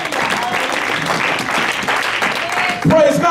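A church congregation claps in praise, steady dense hand clapping throughout, with a voice breaking in loudly near the end.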